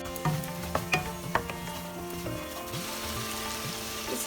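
Green peas tipped into sizzling masala of softened tomato in a pan for cabbage sabji, giving a few sharp clatters and stirring knocks over a steady, close frying hiss.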